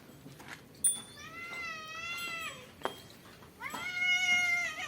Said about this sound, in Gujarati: બિલાડી રાઈડ નાખે